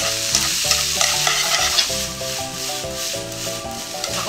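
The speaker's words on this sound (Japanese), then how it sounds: "火加減はね、結構強火でさっと炒める感じですね。" Bean sprouts stir-fried fast over high heat on a griddle with sauce, a steady loud sizzle with rhythmic scraping and tossing strokes, no voices.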